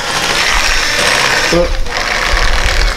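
A mixer buzzes steadily through cheesecake batter with xanthan gum in a bowl, a continuous close motor whir with a brief clatter in the middle.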